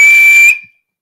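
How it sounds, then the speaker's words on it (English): A single loud, steady high-pitched whistle blast held for about half a second, then cut off into silence, alone with no talk. "the math magician blew his whistle for a second time."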